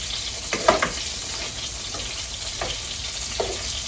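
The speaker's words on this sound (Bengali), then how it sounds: "মাছটা ভাজা হইতেছে" Fish frying in a pan at home, a continuous close hiss of oil with soft crackles and a few louder pops, no talking.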